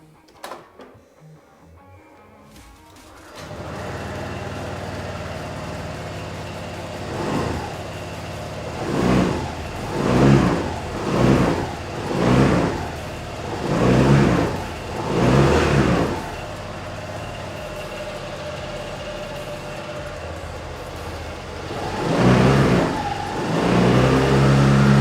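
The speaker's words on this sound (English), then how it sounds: "Okay, let's start this up, listen to it run." A Honda SH125 scooter with 7,473 miles is started after a short cranking noise and then runs at a steady idle. The engine is revved in a series of short blips, close by and with nobody talking.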